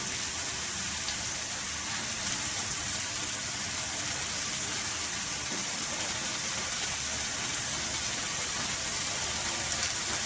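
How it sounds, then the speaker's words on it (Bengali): Pieces of fish sizzle in a hot pan for Malvani fish curry, a dense, steady crackling hiss with fine popping that stays even and fairly loud from start to finish, with no voices. "তারপরে মাছের পিসগুলো আমি এর মধ্যে বসিয়ে দেবো"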